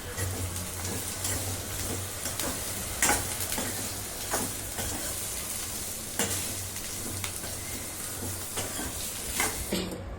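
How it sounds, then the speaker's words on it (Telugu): Onions and green chillies fry in oil for a fish curry, giving an even, continuous sizzle with occasional sharp clacks of a stirring spoon. "దాంట్లో 3-4 ఉల్లిపాయలు కట్ చేసి అదే దాంట్లో పచ్చిమిర్చి వేయించుకోవాలి, దోరగా వేయించుకోవాలి."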